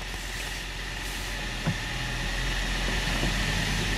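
A car engine runs steadily after a cold start at minus ten degrees as the clutch is released, a low continuous idle drone with a faint click midway and a slight rise in load.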